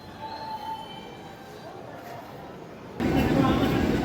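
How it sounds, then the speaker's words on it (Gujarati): Trains passing at Dadar station in Bombay in the rain, a steady low rumble of rolling wheels that swells suddenly louder partway through, with faint squeal tones on top. "એક ટ્રેન આવે ને એક જાય"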